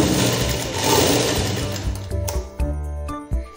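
An electric sewing machine stitching shiny, slippery fabric for a girl's umbrella-pattern frock gown, a loud steady whirring run that then breaks into short stop-start bursts.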